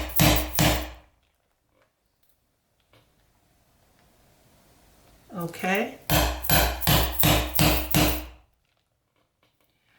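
Hammer striking metal grommets into paper buttons: two quick knocks, a quiet gap with a short spoken word, then a rapid run of six loud, close taps.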